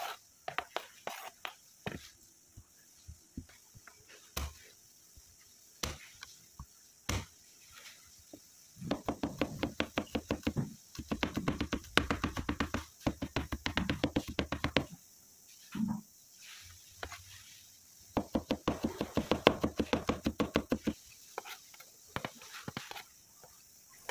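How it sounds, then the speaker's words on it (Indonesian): Garlic cloves being chopped with a knife on a cutting board in a home kitchen, a long run of quick, close, irregular taps in bursts with short pauses between them. "Lalu aku akan mencincang bawang putih."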